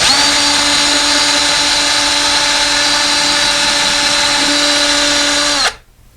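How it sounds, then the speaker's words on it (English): A power drill runs at steady high speed, boring holes into a window frame while mounting blinds, a continuous loud whine with even tone that cuts off abruptly near the end. "Let's grab our drill, and we'll drill these two out."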